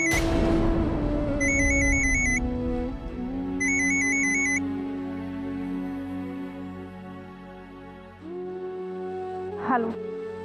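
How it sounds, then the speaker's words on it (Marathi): A telephone goes unanswered in a scene from a Marathi TV serial. Two short bursts of a trilling electronic ringtone sound clearly over sustained tonal background music. "देवयानी, तू आमचा फोन का घेत नाहीयेस?"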